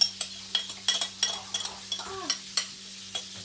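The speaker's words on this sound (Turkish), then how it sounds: "Su girdi herhalde yağın içine." Hot cooking oil that water got into pops and spatters in a home kitchen, sharp isolated crackles at an irregular pace over a low steady hum, with a brief utensil scrape.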